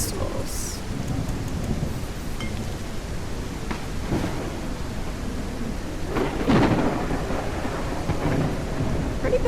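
A thunderstorm rolls through the survival video game Guardians of the Wild Sky: steady heavy rain with deep rumbling thunder swelling loud near the end, no talking.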